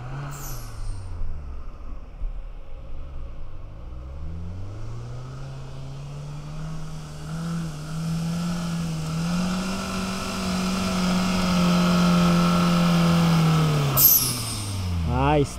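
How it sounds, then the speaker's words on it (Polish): A Suzuki Jimny engine labours up a steep test slope in second gear, close and loud, its pitch dipping and swelling before settling into a strained rising drone, with someone talking over it. "Ja zrobiłem sobie taki testowy podjazd. Do połowy nie ma tragedii, ale na dwójce jadę."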